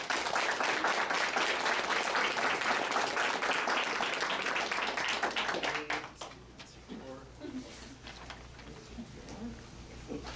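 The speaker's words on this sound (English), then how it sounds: "So please join me again in a little round of applause" Graduation ceremony audience breaks into loud, dense applause for several seconds before the clapping fades out into quieter room sound.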